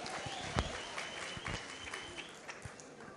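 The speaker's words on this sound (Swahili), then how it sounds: "Tumpigie wakili makofi." An audience at a Jubilee party gathering applauds a lawyer, a fairly faint, scattered patter of clapping with a few sharper claps standing out, tapering off toward the end.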